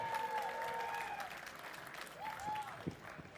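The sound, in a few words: audience applause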